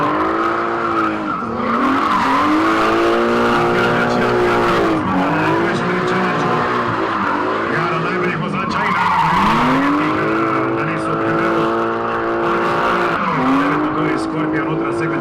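At a qualifying round of a Croatian drift competition, a drift car with a sequential gearbox roars and wails through repeated rising and falling engine revs, with tires squealing as it slides into a corner, under continuous loud commentary.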